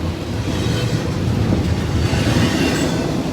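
A CSX intermodal freight train with a distributed power unit rolls past close by, a loud, steady rumble of wagons with faint wheel clatter and squeal throughout.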